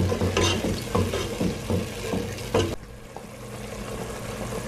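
A tomato and onion paste masala for mutton kofta curry fries in a pan, a loud close sizzle with rhythmic stirring scrapes that stop partway, leaving a softer steady hiss.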